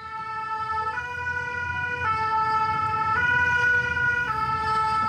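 A French fire engine siren wails in a two-tone alternating pattern, loud and close, over a low rumble of the vehicle.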